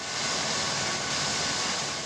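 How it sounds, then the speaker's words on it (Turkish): An ambulance helicopter gives a steady, loud broadband rotor and engine roar that holds constant for the whole stretch with no other sounds. "Binik Elmas için ambulans helikopter devreye girdi."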